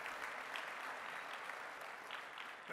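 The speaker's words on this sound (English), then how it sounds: "a round of applause for what is going to be a phenomenal event" Audience applause at a tech industry conference keynote, a steady dense clapping from a large crowd that holds evenly throughout and swells slightly near the end, with no voices over it.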